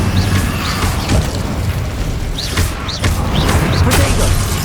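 An Incendio fire spell is cast in the game Hogwarts Legacy, with whooshing fiery bursts and booming impacts mixed into dense combat noise.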